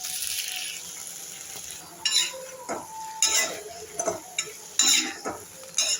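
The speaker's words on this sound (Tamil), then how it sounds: "கடுகு சீரகம் தாளித்து தக்காளி கத்திரிக்காய் கருவேப்பிலை போட்டு வதக்கலாம்" Tomato and eggplant sautéing in a pan with tempered mustard seeds, cumin, curry leaves and green chillies: a spoon scrapes and clatters against the pan in uneven bursts over a steady background sizzle, with no talking.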